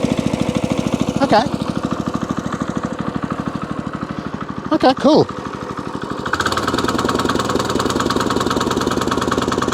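A small farm engine, started with the choke closed, chugs and pulses steadily while warming up, close and loud. A person speaks briefly over it, and the running note shifts and roughens partway through.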